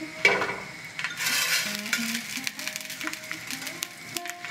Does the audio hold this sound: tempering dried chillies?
yes